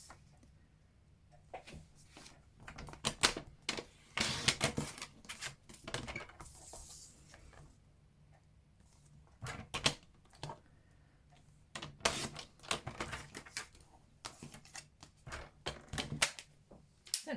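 Grey granite card stock being cut on a paper trimmer, heard as close, quiet bursts of sliding and clicking clatter repeating irregularly, with soft handling noises between the strokes.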